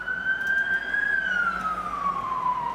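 An emergency vehicle siren passing by, a loud single wailing tone that holds steady then slides downward in pitch as it goes past, with faint traffic rumble underneath.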